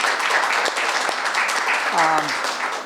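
Audience at a youth award ceremony applauds in a continuous, even patter of clapping, with a voice speaking over it partway through.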